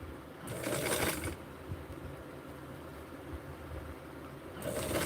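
Sewing machine stitching a Barbie doll dress: two short whirring runs of the machine, one early and one at the end, with a quiet mechanical hum in between, close and fairly soft.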